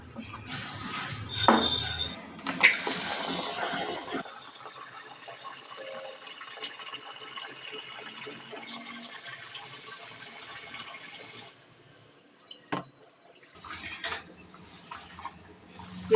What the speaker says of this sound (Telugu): రేషన్ బియ్యం కాబట్టి ఒక త్రీ ఫోర్ టైమ్స్ అయితే కడుగుతాను